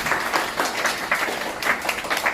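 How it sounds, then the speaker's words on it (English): An audience at a 50th anniversary celebration claps steadily as the bridal party is introduced, a dense patter of many hands that is moderately close and continuous throughout. "Bridesmaid, Kathy, round of applause."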